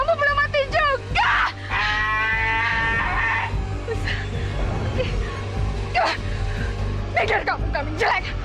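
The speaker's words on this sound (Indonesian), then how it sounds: "Itu kambing-kambing ngejar aku." Several goats bleat repeatedly, loud and close, their wavering cries rising over a steady low rumble, with voices in the background.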